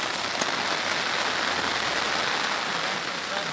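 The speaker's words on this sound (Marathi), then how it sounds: "एक नंबर पाऊस आला." Heavy rain pours steadily on an open farm field, a dense, even hiss of drops on surfaces with no break, close and loud throughout.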